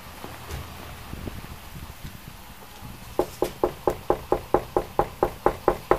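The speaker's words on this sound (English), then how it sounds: "Ready to knock?" A fist knocking on an apartment door during a fugitive arrest, a run of about a dozen sharp, evenly spaced loud raps after a few seconds of quiet room noise.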